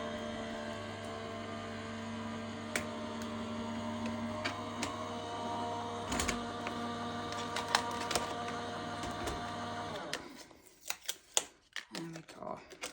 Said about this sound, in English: And we'll just run that through the die cutting machine.